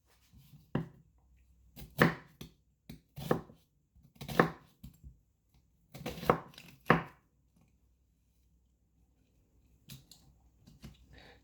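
Half an onion cut with a sharp knife, a handful of crisp close chops spaced irregularly, then a quiet stretch with a few faint taps at the end.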